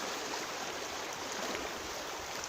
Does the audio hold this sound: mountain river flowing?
yes